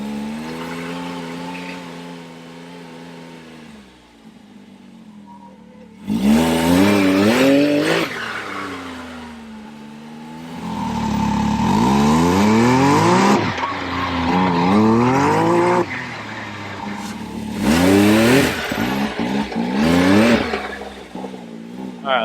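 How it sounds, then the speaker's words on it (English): Can-Am Maverick X3 turbo side-by-side with a heavy-spring blow-off valve, engine revving in loud bursts with fluttering compressor surge chatter after throttle lifts, tires squealing, a voice talking over parts. "it's not even blowing off. Just compressor surge."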